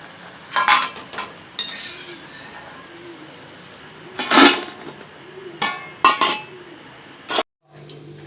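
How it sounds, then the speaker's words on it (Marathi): Mung dal mathri deep-frying over a medium flame until crisp, with scattered sharp clinks and scrapes against the pan over a faint, low frying background. No voices. "छान असे क्रिस्पी ते तळून घेणार आहे मी"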